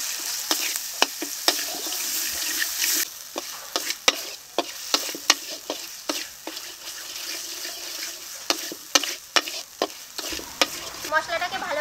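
Spice paste with Kashmiri chilli powder, salt and turmeric being sautéed for rohu fish kalia: a soft sizzle under repeated sharp scraping clicks of a spatula against the pan, with a brief watery trickle near the end.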